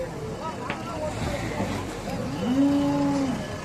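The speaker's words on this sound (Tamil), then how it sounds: "வெட்டுற தூரம் வரைக்கும் மாடு தான் இருக்குது." Cattle at a busy cattle market in Karungalpalayam, Erode, with one loud drawn-out moo rising near the end over crowd murmur and outdoor noise.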